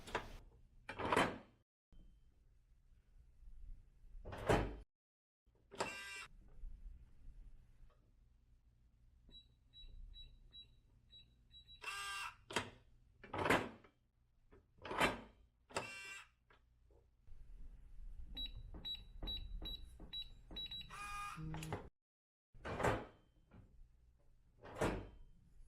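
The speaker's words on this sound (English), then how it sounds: "test the lock a few times before shutting the safe door" SafeLogic Direct Drive electronic safe lock under test, giving a series of sharp clicks and short mechanical clunks spaced through the stretch, with faint high electronic beeps between them and no talking.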